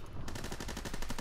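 Rapid automatic gunfire in Counter-Strike, a steady burst of close, loud shots in quick even rhythm with no talking.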